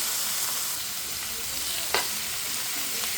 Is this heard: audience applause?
no